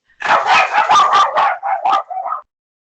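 Dogs barking close and loud in a quick burst of about eight sharp barks and yips, the last few softer and more whiny before falling silent.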